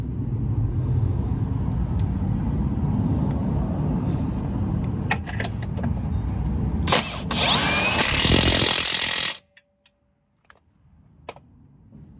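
Impact wrench working on the suspension of a Toyota Camry during a lower control arm job, with a couple of brief blips followed by a sustained loud rattling run of about two seconds that stops abruptly, close by.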